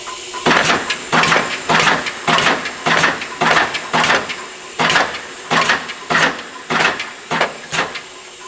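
A used Bliss 45-ton single-crank OBI punch press, model C-45 with 3-inch stroke, runs in a steady repeating cycle of about thirteen mechanical strokes, each a loud clanking thump with hiss, close and continuous without speech.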